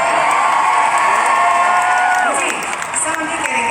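Concert crowd at a show in Munich cheering for a couple who just got engaged: a loud, steady roar of distant cheering and whoops from a big audience, with a sustained tone running underneath.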